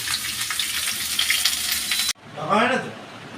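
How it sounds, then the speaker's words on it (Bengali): Potatoes fry with bay leaf, cumin and dried chilli in a home kitchen, a loud steady sizzle for two seconds that cuts off abruptly, followed by a voice speaking over quieter pan noise. "তেজপাতা জিরে আর লঙ্কা শুকনো লঙ্কা দিয়ে আলু ভাজা চলছে"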